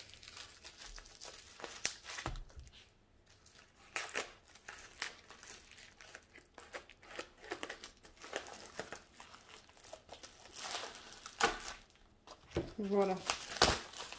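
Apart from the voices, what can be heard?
bubble wrap packaging being handled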